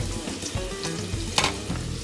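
Curry leaves and chopped onion frying in a pan for Mangalorean-style prawn ghee roast, giving a steady close sizzle with soft crackles and stirring scrapes, nothing else audible.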